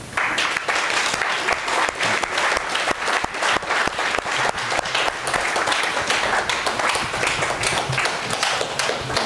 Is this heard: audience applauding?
yes